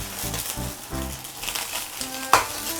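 Bok choy dropped into boiling salted, oiled water for blanching, heard as a close rolling bubbling and hiss with a few splashy knocks and one sharp clink near the end.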